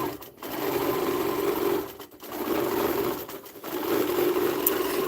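A Baby Lock Gallant XL long arm quilting machine stitches through quilt layers in steady bursts of rapid mechanical whirring, separated by brief pauses, close and alone.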